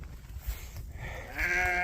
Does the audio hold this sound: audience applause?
no